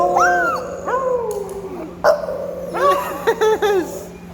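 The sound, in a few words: American bully dog howling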